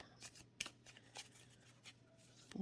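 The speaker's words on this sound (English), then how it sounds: "Let's try to do it corner to corner. Shuffles well that way." A deck of tarot cards shuffled corner to corner, giving quiet, quick riffling bursts with small taps and flutters, close and faint against a low background hum.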